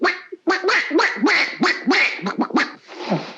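A voice imitates a duck's quack, a rapid series of about nine nasal, raspy quacks delivered loud and close, followed by a trailing breathy sound.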